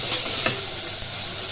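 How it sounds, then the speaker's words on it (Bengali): Chopped tomatoes go into hot oil spiced with Kashmiri chili and turmeric for chole, giving a loud, steady sizzling hiss throughout. "এবার কেটে রাখা টমেটো কুচিগুলো দিয়ে দিলাম।"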